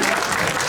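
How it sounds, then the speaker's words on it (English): Audience at an anime convention show stage applauding, a dense burst of clapping filling the whole short moment. "Give her a round of applause!"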